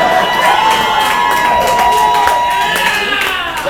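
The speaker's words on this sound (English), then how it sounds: "That's actually the most applause Scottie Pippen has ever had in his life" A comedy show audience cheers loudly and whoops continuously with a dense, close crowd roar that holds steady throughout, while a few shouts stand out above it.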